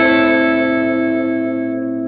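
Keeley Caverns V2 pedal on its shimmer reverb setting with every knob at noon, a sustained shimmering wash of stacked, octave-like tones ringing alone and slowly decaying.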